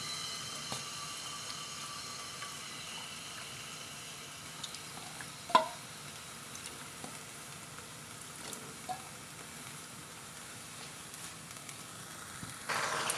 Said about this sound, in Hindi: ये मैंने लिया है बोन्स वाला चिकन। ऑयल में डालते हैं।